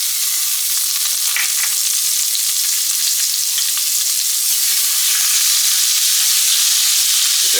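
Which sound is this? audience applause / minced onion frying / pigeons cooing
minced onion frying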